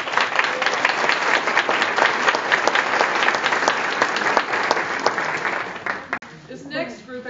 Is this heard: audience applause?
yes